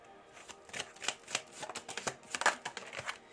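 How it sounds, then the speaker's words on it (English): Tarot cards being shuffled by hand, a close, soft run of rapid riffling flicks in uneven bursts with no talking. "I'm going to pull some cards for masculine."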